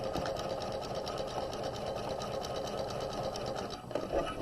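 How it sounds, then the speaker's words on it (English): A sewing machine stitches the underarm seam of a sleeve, a steady close rapid whir that briefly slows near the end before picking up again. "so I'm stitching the underarm seam."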